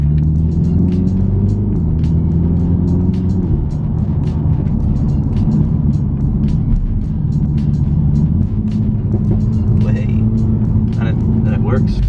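A John Cooper Works Mini Countryman engine pulls through the gears on a road drive, its loud droning note rising and dropping back at each shift, with a voice talking over the steady cabin rumble.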